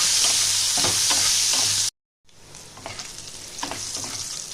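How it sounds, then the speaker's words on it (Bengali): Bitter gourd pieces fry in hot oil in a pan with salt and turmeric, a loud continuous sizzle with stirring scrapes, cut by a brief silent gap before the frying resumes slightly softer. "অল্প একটু হলুদ দিয়ে এটা আমি লাল লাল করে একটু ভেজে নেব।"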